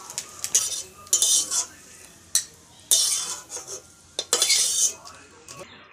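A utensil stirs potato and Malabar spinach stalks in hot oil in a pan for a vegetarian curry, giving close, repeated bursts of metallic scraping and clinking separated by short quiet gaps.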